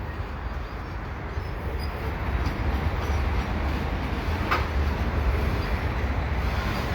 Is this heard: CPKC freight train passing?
yes